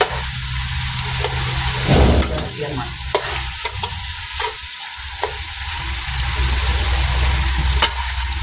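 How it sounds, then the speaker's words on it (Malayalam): Chicken fries in a pan with a steady sizzle and hiss, broken by several sharp scrapes and clinks of stirring, close and fairly loud with no talking. "അതുകൊണ്ട് നമ്മൾ ചെറുതായിട്ടൊന്ന് ചിക്കൻ ഒന്ന് വറുത്ത് പോയി."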